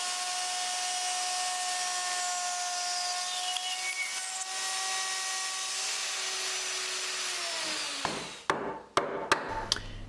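A woodworking machine cutting square corners in wood for a staircase stringer, a loud steady whirring drone with tonal whine that winds down after eight seconds, followed by a few sharp knocks and taps, no talk.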